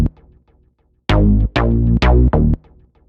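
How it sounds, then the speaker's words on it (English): Punchy bass synth notes from an FL Studio beat, four sustained hits after a short quiet intro, each with a bright attack fading down, playing alone. "the first thing I started off with was this bass synth here"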